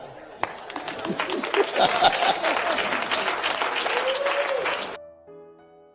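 An audience bursts into sustained applause after a motivational sermon by Dr Myles Munroe, dense clapping swelling quickly and holding steady for about four seconds before cutting off abruptly, with faint voices underneath.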